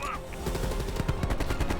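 Rapid automatic turret fire in the shooter game Call of Duty Cold War, a quick run of evenly spaced shots at steady volume lasting under two seconds, with no speech.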